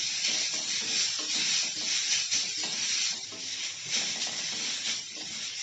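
Carrots and mixed vegetables fry in a pan with a little oil over a low gas flame, giving a steady soft sizzle and hiss with faint scraping of stirring underneath, close and continuous without speech.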